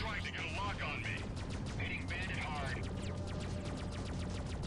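Spaceship weapons in Freelancer fire in fast repeated bursts of zapping shots over a constant engine rumble, loud and close, with chirping laser tones layered in and a voice briefly speaking.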